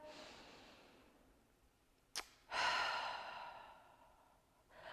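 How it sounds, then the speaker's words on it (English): Quiet breathing during a yoga warm-up: one sharp intake followed by a long, audible sigh-like exhale, then another breath starting, close to the microphone with no talking. "So we're just gonna take a few breaths here."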